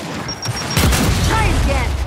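A grenade explosion in the video game Gears 5 lands as a loud, full-bodied boom under ongoing game noise and voices, with rumbling debris trailing off for a second or two.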